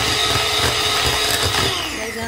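An electric beater whipping a custard ice cream mixture, a loud continuous motor whir with a rattling churn that holds steady for a couple of seconds and eases slightly at the end.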